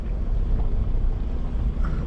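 Vehicle rolling downhill in second gear on Newmans Track, a steady low engine drone mixed with wind buffeting against the microphone, continuous and fairly loud throughout.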